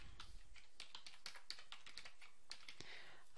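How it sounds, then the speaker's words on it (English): Close-up typing on a computer keyboard, entering a username and password in QuickBooks Pro 2016: a steady run of quick, light key clicks, fairly quiet and with no talking. "You need to drag across it and type in the new user and then type in the password."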